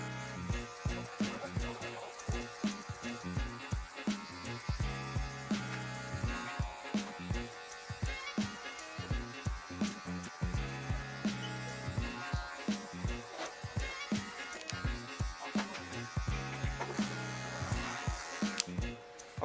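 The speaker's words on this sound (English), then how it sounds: "Still my cordless magic clips, number two guard on, wall comb at an angle, clipper over comb to remove a lot of this bulk right here." Cordless Magic Clip hair clippers with a number two guard buzz steadily through short hair in a clipper-over-comb cut, with close, rhythmic surges and snips as the blade passes repeatedly through the bulk.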